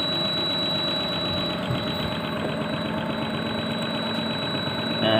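A DC motor driving an unloaded generator, speed controlled by a two-quadrant DC chopper, running at a steady hum with a constant high whine and faint rhythmic vibration, unchanging for several seconds.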